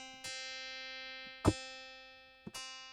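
A synthesized looping waveform with feedback: three tonal struck notes, each a bright harmonic tone that decays and fades down gradually between repeats, heard alone.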